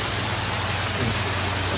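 A forest waterfall gives off a steady, dense rushing roar, even and continuous throughout, with no voices over it.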